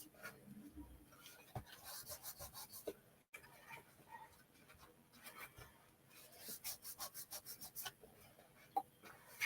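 Paper box front being burnished by hand, a quiet close series of rapid rubbing strokes in short rhythmic bursts with pauses between, faint and dry.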